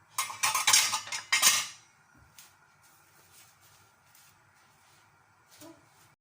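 A metal lid clatters onto a pot of vegetable soup in a home kitchen, a quick burst of clinks and rattles in the first second and a half, followed by faint clattering and quiet background.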